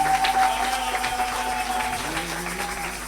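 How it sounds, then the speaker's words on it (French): A church congregation applauding, with scattered clapping under a sustained tone and a faint voice, moderately loud and continuous. "Est-ce qu'on peut applaudir le Seigneur?"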